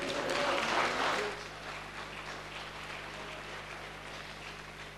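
Members of parliament applaud in a session hall as the speaker leaves, a dense burst of clapping that fades after about a second into a quieter, lingering room murmur with a steady low hum.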